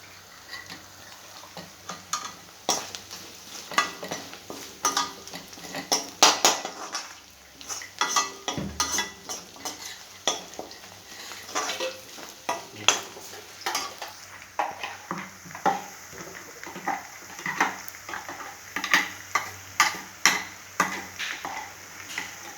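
Onion and dried chilies fry in a pan with a steady sizzle, broken by frequent utensil scrapes and clinks of stirring against the pan. The cooking sound is close and alone, with no talk.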